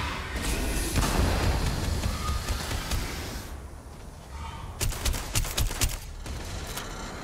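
An incendiary laser weapon fires in the Starfield video game, a roaring, crackling stream of bursts that eases off midway and then returns with several sharp, loud cracks.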